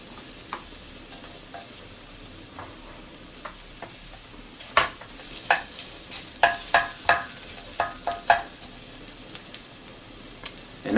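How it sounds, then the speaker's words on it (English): Chopped onions sauté in a hot pan for Italian-style collard greens, a soft steady sizzle broken from the midpoint by a run of sharp scraping and clinking stirs, close and moderately loud. "just start throwing in the onions, getting them all sauteed a little bit"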